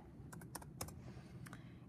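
Keystrokes on a computer keyboard, a few quick clusters of clicks tapped out in a quiet room, soft and close with pauses between bursts.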